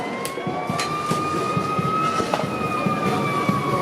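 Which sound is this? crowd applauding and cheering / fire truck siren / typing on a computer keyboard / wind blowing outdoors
fire truck siren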